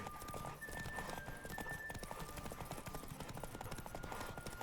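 Horse hooves clip-clop at a gallop in The Witcher 3, a quick steady rhythm under game music and ambient sound, fairly faint overall.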